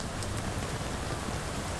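Steady rain falls during an outdoor Memorial Day ceremony honoring the military in Waxhaw, a dense, even hiss that continues unbroken with no voices.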